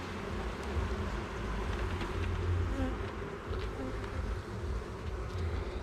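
Honeybees buzz steadily and densely at close range while a beehive is opened and inspected.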